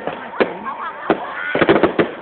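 Fireworks launching at a Vietnamese ethnic cultural village, a quick series of loud pops and bangs, some clustered close together, with voices faintly present in the background.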